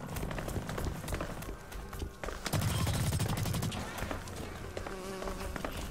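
Rapid gunfire from the shooter game Blacklight Retribution crackles through a dense, busy mix of game sounds, with a heavier burst of fire near the middle.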